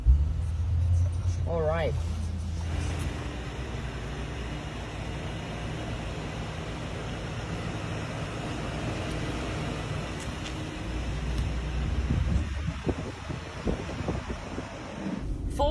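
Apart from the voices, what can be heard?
car driving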